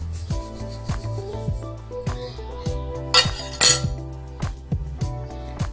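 An egg beaten by hand for homemade soft bread dough, a utensil clicking and scraping against a bowl in quick repeated strokes, close and fairly loud, with a couple of sharper clinks.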